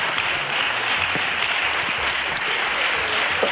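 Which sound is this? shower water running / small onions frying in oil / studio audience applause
studio audience applause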